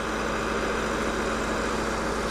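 Engine driving a manure pump, revved up and running in a loud, steady, close drone with an even vibrating rumble. No talk.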